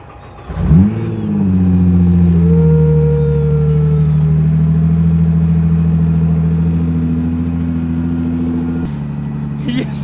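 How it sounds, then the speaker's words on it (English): A wrecked Nissan GT-R Nismo at a salvage auction lot cranks and catches after a cold start, then settles into a loud, steady high idle close by, with its pitch dropping slightly near the end while people talk nearby. "Let it run a little bit and then you can rev it."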